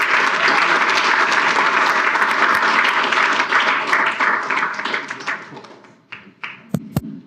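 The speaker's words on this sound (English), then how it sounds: "Let's give a round of applause." Loud, close applause from an audience after a talk on app store optimization, steady for several seconds and then tapering into scattered individual claps and a few sharp taps.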